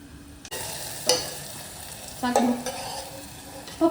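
Ground masala paste for a veg donne biryani being fried and stirred in a pan, with a steady sizzle, occasional scraping strokes and a few louder stirring bursts, no talking.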